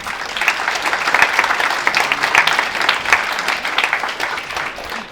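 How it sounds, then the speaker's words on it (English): A keynote audience in Bratislava gives loud, sustained applause as Nanxi Liu, CEO of Enplug, is welcomed onto the stage, a dense, steady roar of many hands clapping. "Ladies and gentlemen, please welcome on stage with a big applause Miss NANXI LIU."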